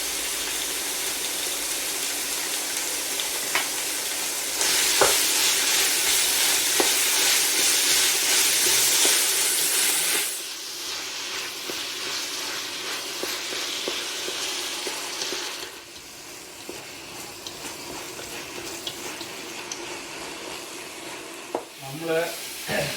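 Onions with a little salt frying in a pan for a home-style chicken curry, a steady close sizzle with occasional stirring scrapes, softening and quieting partway through as the onions dry out.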